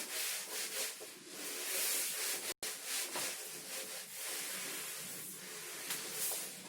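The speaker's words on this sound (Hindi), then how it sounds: "ऊपर का मैं कर देता हूँ इसको रब" A classroom board being wiped clean of writing, giving a steady, soft scrubbing and rubbing sound with a brief pause partway through, close and fairly quiet, with no voice over it.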